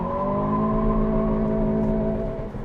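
Turbocharged engine of a 2023 Acura Integra with a manual transmission pulling hard from a standstill, a loud steady rising drone heard from inside the car for a few seconds, easing off at the end.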